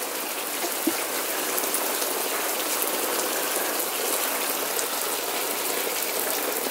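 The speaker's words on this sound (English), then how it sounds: "Good gracious. It's rain." Steady, dense hiss of rain falling on a surface, continuous and fairly loud throughout with no voices.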